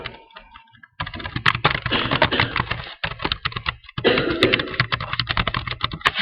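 Steady rapid typing on a computer keyboard, close and clear, with dense clicking keystrokes in bursts separated by brief pauses.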